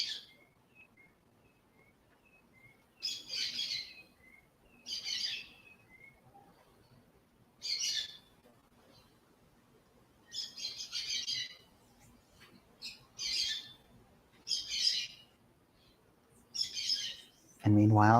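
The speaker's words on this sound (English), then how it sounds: "I think you can hear the birds singing behind me." Birds sing outdoors behind a speaker, with short bright chirping phrases repeating every few seconds, moderately faint against a quiet background.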